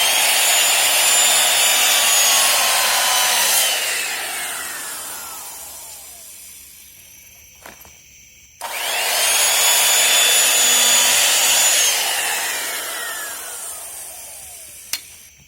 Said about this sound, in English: We're breaking out power tools.